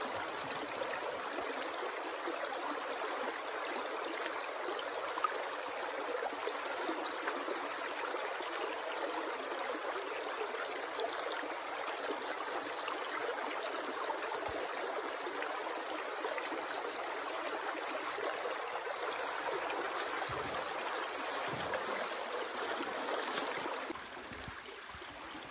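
Water in a small Wisconsin creek, worked for fine gold, flows and trickles steadily as a constant close rushing wash with no talk, dropping slightly near the end.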